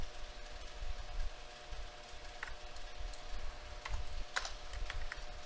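Typing on a computer keyboard produces quiet, irregular key clicks in small clusters over a faint steady background hum, with no one speaking.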